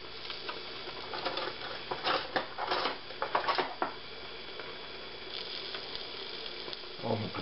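Eggs cooking under a lid in a pan make a soft, continuous sizzle and patter, with a few louder crackling bursts in the middle, quiet and close, without talk.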